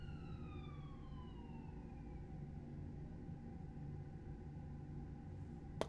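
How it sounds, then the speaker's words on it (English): A faint siren wails in the distance, its pitch sliding downward as it passes, over a steady low hum, ending with a brief click. "Sorry, there was a siren."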